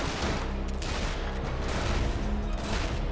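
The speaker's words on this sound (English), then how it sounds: "Can we get another gun salute?" Volley of rifle fire for a gun salute in the survival game ARK, a dense burst of overlapping shots sustained loudly throughout with no talking.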